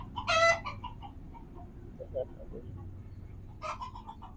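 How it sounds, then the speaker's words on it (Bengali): Chickens in a small backyard coop holding native and farm-raised birds, with loud nearby squawks and clucks at the start and end and softer clucking between. "এর মধ্যে দেশি মুরগি, তারপরে ওই পাশে আছে ফার্মি মুরগি, এগুলো লালন পালন করে থাকি।"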